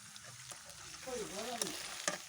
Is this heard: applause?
no